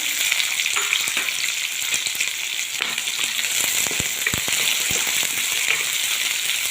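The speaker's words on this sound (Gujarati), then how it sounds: "ડુંગળી થોડી ફ્રાય થવા દેવાની છે" Onion and garlic frying in a pan for shahi paneer, a continuous close crackling sizzle with scattered sharp pops throughout and no speech.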